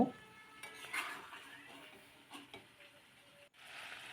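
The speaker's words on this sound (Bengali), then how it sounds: "একই প্রক্রিয়ায় মাংস 8 থেকে 10 মিনিট কষাতে থাকব" Desi chicken being stir-fried in a pan, with faint sizzling and occasional clinks and scrapes of a spoon against the pan, quiet and close, with no voices.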